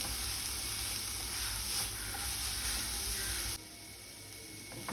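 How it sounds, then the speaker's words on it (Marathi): Sweet filling being sautéed in a pan with a pinch of salt, giving a steady close sizzle and hiss that continues throughout and drops a little in level near the end. "जास्त नाही एकदम थोडंसं छान असं परतवून घ्यायचं आहे"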